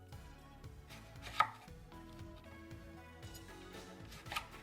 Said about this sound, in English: I have a couple small cucumbers from my garden, and I'm going to chop those up the same way I did the carrots.